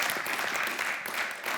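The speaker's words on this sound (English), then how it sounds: "Yeah, applause." Brief wash of audience applause at a planetary science talk on the Cassini mission to Saturn, a soft continuous patter of many hands at moderate distance.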